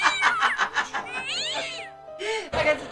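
A cat yowls and meows repeatedly in the Broken Sword video game, a string of loud, wavering, drawn-out cries heard up close with no talk over them.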